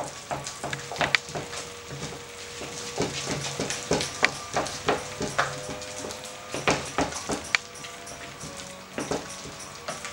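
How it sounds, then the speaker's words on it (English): A spoon works through a cheesy turkey ring mixture in a bowl, giving irregular close scrapes and clacks against the sides over a soft continuous background, with no talking. "So just mix that up really well."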